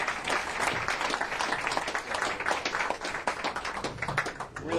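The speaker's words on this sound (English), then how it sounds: "How about a round of applause for Phil Drum, folks?" Audience applause for Phil Drum at a live blues show, a dense, steady wash of clapping from a crowd that holds for several seconds without a break.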